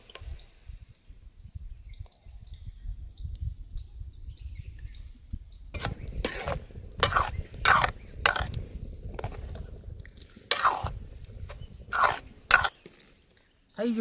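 Green chickpea curry stirred with spices in a pan: at first a low, soft rumble, then a run of sharp, close scrapes and clinks in an irregular rhythm.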